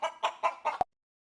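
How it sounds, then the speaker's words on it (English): A chicken clucks four times in a quick, even rhythm, close and clear, ending with a sharp short click before silence. "chicken,"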